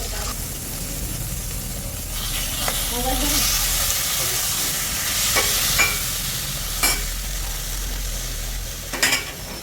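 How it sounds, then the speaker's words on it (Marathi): Mutton pieces fry in hot oil in a pan for a spicy village-style mutton rassa, giving a steady close sizzle with occasional spoon scrapes and clinks as the meat is stirred. "त्याच्यामध्ये आपण मटण टाकू आणि मटण मस्तपैकी हलवून घेऊया"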